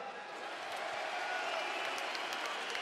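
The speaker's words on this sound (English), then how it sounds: "Let's give a round of applause for Islam." A crowd at a mixed martial arts event applauds for fighter Islam Makhachev, steady distant clapping at a faint, even level throughout.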